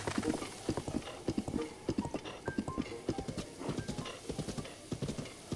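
Horse hooves in the video game Zelda: Breath of the Wild clip-clop in a steady, quick rhythm, close and distinct, with a few faint tonal chimes scattered in the background.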